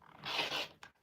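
Scissors trimming quilt fabric for a Quilt of Valor, a single close, soft snipping swish that lasts about a third of a second, followed by a brief second cut, alone and quiet.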